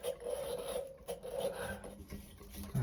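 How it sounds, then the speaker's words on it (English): A small wire brush scrubs corroded threads on a water heater inlet fitting, giving a continuous close, rough scratching and rasping. "Now I got me a little wire brush here to clean the threads."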